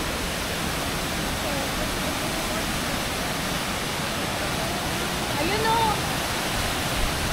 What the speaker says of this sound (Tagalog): Yan na ang falls.